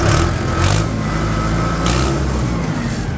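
A heavy diesel engine of a 2024 Mahindra Arjun Ultra 605 tractor runs steadily at close range, a loud low rumble idling with slight surges.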